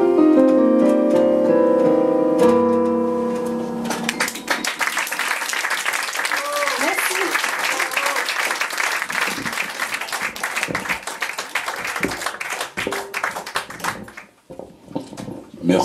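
Audience applause at an evening stage show swells into dense, continuous clapping after music fades, loud and full, tapering off toward the end.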